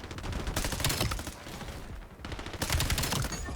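Hip-fired bursts from an M15 Mod 0 rifle in a first-person shooter video game, dense rapid gunfire in two loud stretches with a brief lull between.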